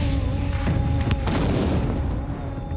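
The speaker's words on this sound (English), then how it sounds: "The Russian attack on Redoubt Number 1 began at dawn when a massed battery of more than 30 heavy cannons opened fire." A massed battery of heavy cannons opens fire, heard as a deep boom followed by a sharp, loud blast and a rumbling decay, with a fainter thud earlier.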